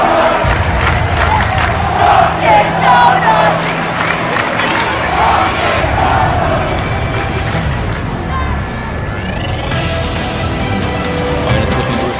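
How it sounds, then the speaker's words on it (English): A crowd at an FDNY versus NYPD ice hockey game cheers and roars loudly in an arena, a sustained wash of shouting and clapping with rising bursts and rink noise, voices mixed throughout. "And the crowd is starting to arrive."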